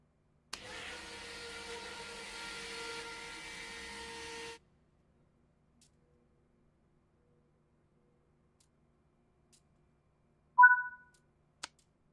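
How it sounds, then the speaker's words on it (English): Steady mechanical whir from an SD40 diesel locomotive being primed in Train Sim World 3, a continuous hum with a tonal whine lasting about four seconds then stopping, followed by silence and a couple of short electronic beeps. "The engine will first need to be primed to start the locomotive."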